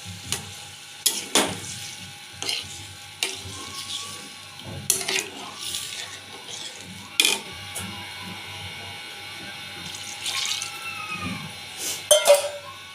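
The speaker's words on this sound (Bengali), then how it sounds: "এখন জল দিয়ে দেবে" Water poured into a pan of frying drumstick curry brings a continuous bubbling sizzle, broken by scattered clinks and scraping of utensils against the pan, close and without talking.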